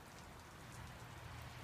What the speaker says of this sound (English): Here we are, Christmas Eve in Salt Lake City, and it's raining.